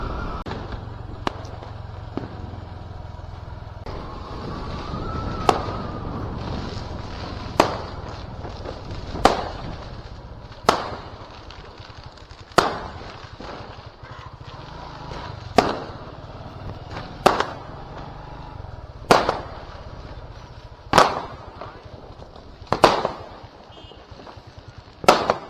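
Diwali firecrackers go off one after another in sharp, loud bangs at roughly regular intervals over a constant background hiss and rumble, with a few smaller pops scattered between the main blasts.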